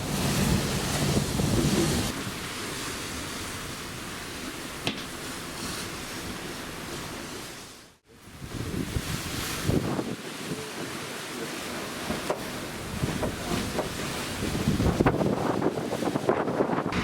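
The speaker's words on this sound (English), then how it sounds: "This is our first morning at sea, and we're sailing into Uruguay." Steady ocean surf and gusting wind buffet the microphone aboard the Coral Princess cruise ship on a morning at sea bound for Uruguay, a broad continuous roar with a brief dropout midway and rising gusts toward the end.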